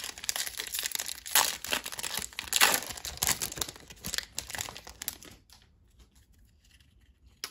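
Foil packs from 2021-22 Prizm basketball card blaster boxes ripped open, with loud close crinkling and tearing bursts for several seconds before the sound drops to faint handling.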